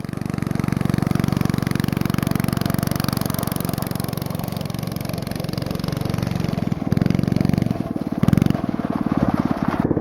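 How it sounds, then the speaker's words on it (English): A Black Widow go kart with its stock engine runs at full throttle uphill, a loud continuous buzzing drone that holds steady for the whole stretch, with a brief surge and rattle near the end. "this is full throttle the whole way up the hill"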